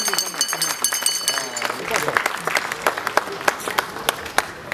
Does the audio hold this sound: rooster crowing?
no